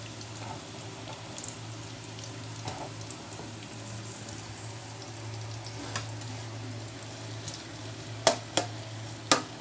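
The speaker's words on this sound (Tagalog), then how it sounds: "lulutuin natin muna maigi itong sibuyas" Onions frying in a pan for chicken pastil give a steady, low sizzle that runs throughout, with a few sharp clinks or pops near the end and no talking.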